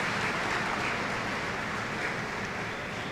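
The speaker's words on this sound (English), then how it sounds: "Now, who should be clapping for this Mukherjee girl?" Audience applause at a 2023 memorial quiz competition, steady dense clapping from a crowd for a contestant, filling the room evenly throughout with no talk over it.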